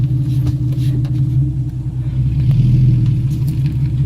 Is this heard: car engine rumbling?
yes